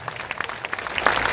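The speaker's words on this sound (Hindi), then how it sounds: "जोरदार तालियों से स्वागत होना चाहिए, ताली रुकनी नहीं चाहिए" Crowd at a political party rally in Bihar clapping, individual hand claps audible in a quick uneven patter that thickens and grows louder toward the end.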